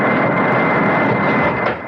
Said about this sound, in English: You fly the plane, Scotty.